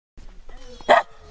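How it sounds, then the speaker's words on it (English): A single dog bark rings out in the countryside, sharp and fairly close, rising briefly above low background noise and faint voices. "Oh, the dog that's been barking."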